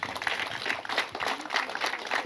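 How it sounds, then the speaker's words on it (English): Audience at an event for a rehabilitation project in Ghana applauds, with moderate steady clapping that pulses slightly and holds at mid distance. "If we could give him a round of applause."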